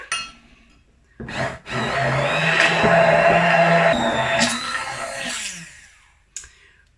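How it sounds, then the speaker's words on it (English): A stick blender whirs loudly for several seconds blending hot sauce, starting with a couple of short bursts, then running steadily before cutting off, with a brief final pulse. "So I'm just gonna blend this with my stick blender."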